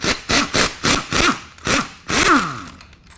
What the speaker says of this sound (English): we're going to be removing the 3rd retaining bolt, and this one you can gain access with your impact gun